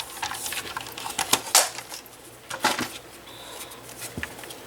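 A paper trimmer takes about an eighth of an inch off the top edge of a handmade winter paper lantern: a few soft clicks and scrapes, with one sharper snap, heard close and alone.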